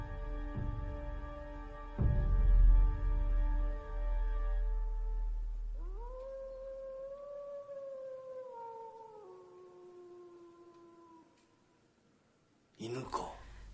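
A single long, wavering howl of a dog or wolf in a Japanese Zen drama about the monk Dogen, rising and then sliding lower over several seconds after low rumbling noise, followed by a brief burst of noise.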